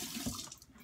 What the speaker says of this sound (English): Running this right underwater, guys.